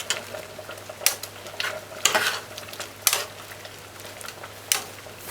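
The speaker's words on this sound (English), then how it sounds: "you just add butter. 1 tablespoon. And just stir it in gently." A spoon stirs butter gently into a pot of Jamaican chicken foot stew peas, giving soft scraping strokes and a few sharper clinks against the pot over a low bubbling simmer, with no talking.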